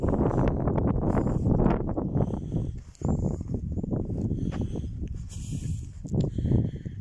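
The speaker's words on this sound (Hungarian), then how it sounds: "Kicsit fúj a szél." Wind blowing outdoors at a forest edge near a town buffets the microphone in loud, gusty rushes, with a brief lull midway before the gusts return.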